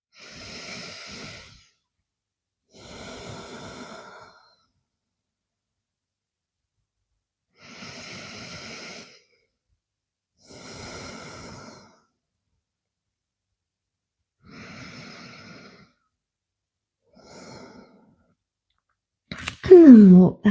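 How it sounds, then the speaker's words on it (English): Slow deep breaths taken in child's pose during a core and balance yoga session, six long inhale and exhale sounds spaced evenly apart by silence, close and clear, with a brief louder noise at the very end. "Pause in here in child's pose for 3 deep breaths."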